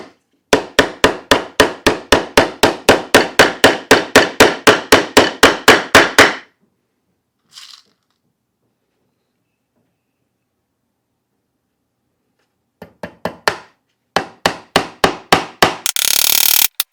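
A hammer drives nails into wooden dividers for a sewing machine table: about twenty steady, evenly spaced ringing strikes, then a long silence, then a few more blows and a short burst of rough grinding noise.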